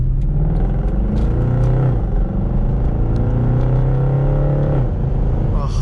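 Car revving through a Sencal Motorsports full titanium valved exhaust, close and loud, with several rising and falling revs and a steady droning tone between them.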